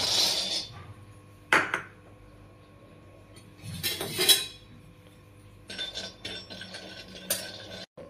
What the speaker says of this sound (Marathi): चला तर सर्वात पहिल्यांदा आपण शेंगदाणे भाजून घेऊया